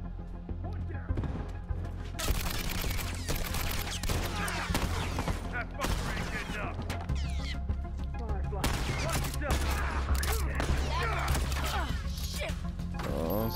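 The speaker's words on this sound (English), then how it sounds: "Oh, someone's shooting at me." Heavy gunfire in The Last of Us, dense bursts of shots and crashes filling the whole stretch, loud and close, with a steady low game rumble underneath and a voice speaking at times.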